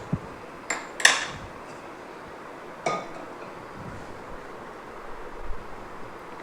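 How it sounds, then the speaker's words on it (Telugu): A kadai is set down on a stove in a home kitchen while making tender okra pulusu, giving a few sharp metallic clinks and clanks, then quieter knocks against a soft background hiss. "స్టవ్ ఆన్ చేసి కడాయి పెట్టుకుందాం."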